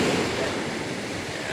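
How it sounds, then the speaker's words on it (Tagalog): Big ocean waves at low tide surging as a steady, broad wash of surf mixed with wind noise, loud and close throughout the short stretch. "Ayan o, malalaki ng alon."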